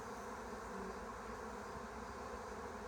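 A swarm of honeybees droning steadily around a tree, a continuous buzzing hum from many insects at once, fairly close and unbroken, with no voices.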